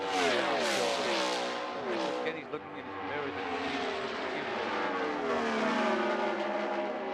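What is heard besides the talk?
IndyCar race car engines at Las Vegas Motor Speedway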